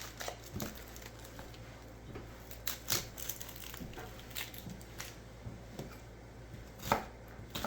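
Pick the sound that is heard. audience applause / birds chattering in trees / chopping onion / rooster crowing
chopping onion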